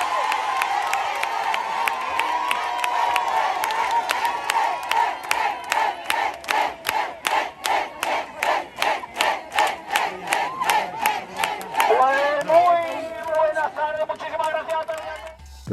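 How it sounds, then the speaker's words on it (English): A large crowd at a religious gathering near a first-century Roman theater in Málaga, Spain, cheers and chants in a loud rhythmic pulse, steady beats rising into a swelling roar near the end. "the cheer grew louder as I walked across the view of the theater"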